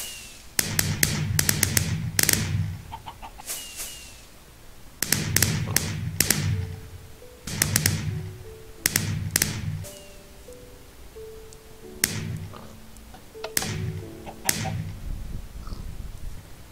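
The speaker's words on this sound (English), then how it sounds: "Ah, the fireworks are just so beautiful, aren't they?" Fireworks launching and bursting in Minecraft: clustered bursts of sharp pops and thuds arriving in groups every couple of seconds, each followed by short crackling tails, with quiet gaps in between.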